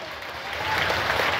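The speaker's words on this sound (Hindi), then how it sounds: "दर्शक बंधु आपण मानक बहुमूल्य मतामत को करताली माध्यम रे जणांतो" Theatre audience applauding at a Cuttack gananatya folk stage drama show, a dense steady wash of clapping that swells slightly over its short span.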